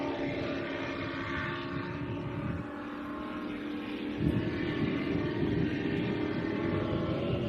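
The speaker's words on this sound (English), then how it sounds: "these boats accelerate away very, very hard" Super Cat Extreme racing catamaran powerboats of around 1,800 horsepower accelerate hard at an Adelaide race, a loud continuous engine roar that swells further about halfway through.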